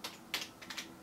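Someone types on a computer keyboard at a Raspberry Pi, with a few quick, faint keystrokes tapping in a short burst and no speech.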